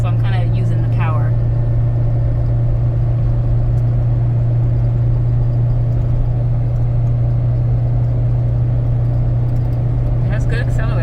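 A 2011 Jeep Wrangler with a six-speed transmission accelerating uphill in gear, heard from inside as a steady, loud low engine drone with continuous road noise throughout.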